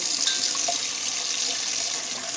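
Tap water runs steadily into a cooking pan, a close, continuous hissing splash that holds at an even level throughout, with no talking.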